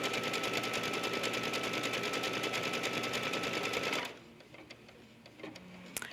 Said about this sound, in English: this is going to stitch a triple stitch